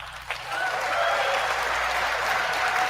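An audience at a political speech breaks into sustained applause, with a brief clap at the start before dense, even clapping fills the room at a steady, fairly loud level to the end.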